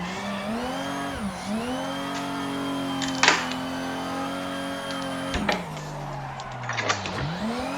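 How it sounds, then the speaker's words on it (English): Engine drone of a sim racing car drifting around a corner in a video game after a clutch kick entry, with sustained revving that rises and falls through long slides, plus brief tire squeals, and no talking. "he's maintaining the drift around turn 1"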